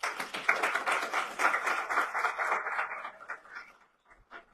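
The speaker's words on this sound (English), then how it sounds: "I want to pause to give him a round of applause." Audience applause at a Dominica calypso hall of fame event, a steady burst of clapping that fades out toward the end, loud and close.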